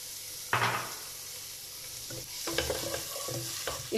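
Small chopped onion frying in a pan for pasta, a steady close sizzle with stirring scrapes, a burst near the half-second mark and livelier clatter in the second half; no speech.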